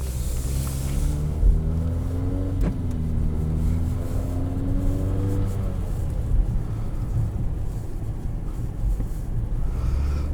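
A 2022 Infiniti QX55 with a two-liter turbocharged, variable-compression four-cylinder pulls away, heard from inside the cabin as a steady low engine hum whose pitch rises gently, then settles into a smooth rumble.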